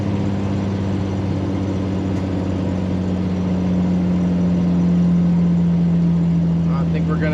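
A propane-fuelled 1968 Ford Ranchero climbs a hill, its engine droning as a steady low hum that grows louder and rises in pitch partway through as it pulls harder under load; someone talks over it.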